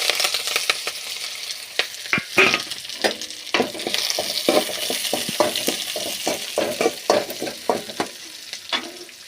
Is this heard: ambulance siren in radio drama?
no